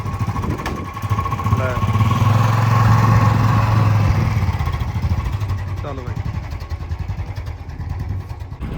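A Bullet motorcycle engine starts and settles into a steady, thumping idle, loud and close, with voices talking over it.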